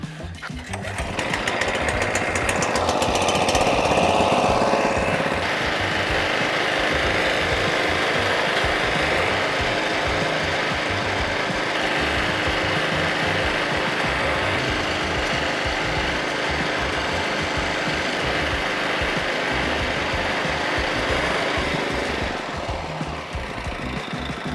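A cylinder lawn mower cutting a sandy lawn, its steady rasping, scraping whirr running close and loud for over twenty seconds before easing off near the end.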